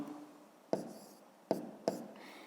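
A pen writes out a math exercise by hand on paper, with three sharp taps and brief scratchy strokes close by in a quiet room.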